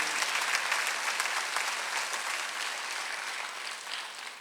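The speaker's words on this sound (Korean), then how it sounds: "박수 세게 쳐보세요" A congregation claps hard during a Sunday worship service at a church, a dense, steady wash of applause held throughout, moderately loud and without talk.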